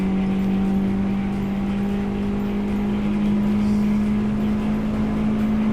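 An old Toyota Corolla engine racing in Gran Turismo 7, holding a steady, strong drone at near-constant revs with a faint hum beneath, loud and close throughout, no voices.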